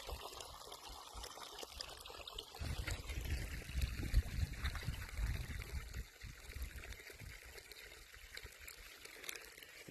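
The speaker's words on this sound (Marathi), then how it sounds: "अशा ठिकाणी बोरवेलचं पाणी चालू आहे." Borewell water gushes through a hose into a garlic field, a steady, continuous rushing flow outdoors that thickens and grows louder midway, then settles.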